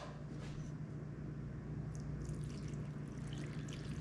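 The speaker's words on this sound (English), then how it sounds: "Then I want to add the broth." Broth poured slowly and carefully into a donabe clay pot over mushrooms, pork and garlic for a sake nabe, a soft steady trickling stream close by with low background hum.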